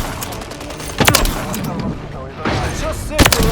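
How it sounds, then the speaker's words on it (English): Rocket launcher shots and explosions from the video game Modern Warfare 3, two sharp loud booms about two seconds apart amid game noise, with a player's voice in between. "I'm about to fire off the Nosk and it actually hit"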